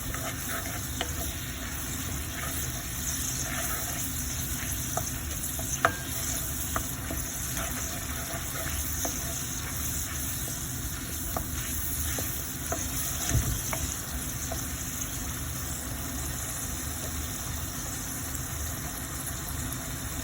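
Onions fry in a pan with a soft, steady sizzle and occasional scraping stir clicks, faint and continuous over a low background hum, no talking.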